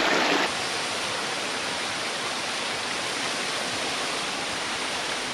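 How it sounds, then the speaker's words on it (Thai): Steady, broadband rush of a flowing stream in a valley in Nakhon Nayok, Thailand, continuous and fairly close, with no voices or other sounds breaking through. "ใช้เวลาสักพักไปกับการปล่อยใจไปกับเสียงน้ำไหล"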